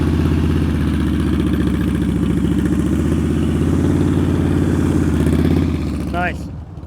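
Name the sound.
motorcycle riding slowly through a turn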